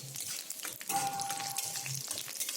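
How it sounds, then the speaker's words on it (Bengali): Chopped garlic fries in hot oil, a soft, fairly quiet crackling sizzle with light stirring clicks and a brief scrape in the middle. "দিয়ে দিচ্ছি রসুন কুচি রসুনটাকে একটু ভালো করে ভেজে নিতে হবে"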